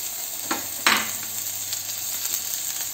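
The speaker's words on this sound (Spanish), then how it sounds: "el cuartito de elote y sofrío por un minuto más" Chili and a small portion of corn sofrito sizzling in a frying pan for huevos a la poblana, a steady soft hiss close by, punctuated by a couple of brief stirring scrapes.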